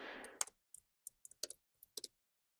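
Brief bursts of keystrokes on a computer keyboard, a handful of quiet, crisp clicks in small irregular clusters, heard close and alone in a quiet room.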